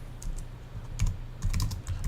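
Computer keyboard keys typed in short bursts of clicks, close and fairly quiet, over a steady low hum of room noise, with no voices.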